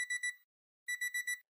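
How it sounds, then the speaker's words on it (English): Electronic buzzer sounding in two quick bursts of rapid pulsed beeps separated by a short silence, clear and fairly quiet with no talk. "I did hear the buzzer buzz though."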